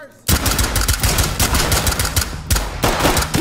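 Gunfire in the tactical shooter Ready or Not: a loud, close burst of rapid shots that runs the whole length of the sound, with a second sharp volley near the end.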